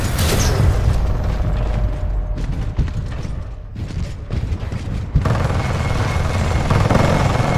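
An enemy Titan exploding in Titanfall 2 multiplayer, a loud, sustained rumbling blast with crackling debris and mechanical clatter that briefly dips before surging again.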